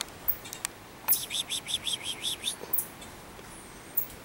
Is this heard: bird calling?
yes